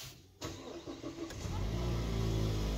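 A Mazda CX-3 engine is push-button started with the clutch pressed: a sharp starter crank at about half a second gives way to a steady, low idle that settles and continues alone to the end.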